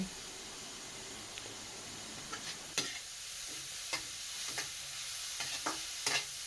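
Carrots sauté in a pan for stuffed milkfish, a soft constant sizzle broken by scattered sharp clicks of a utensil stirring against the pan, close and without speech.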